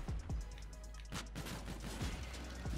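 Semi-automatic fire from the Nv4 rifle in Infinite Warfare, a handful of separate sharp shots spaced irregularly across a busy, loud game mix with other gunfire and effects behind them.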